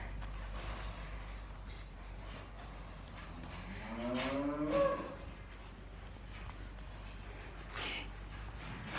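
Young heifers eating in a barn: one drawn-out moo rises from a steady low background hum, fairly faint and somewhat distant, with a few soft shuffles around it and no talk.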